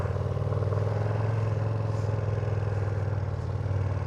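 A 2024 Ducati Panigale V2 engine runs steadily and close by, a deep continuous drone with a throbbing low pulse and faint mechanical clatter, holding an even level throughout without any talking.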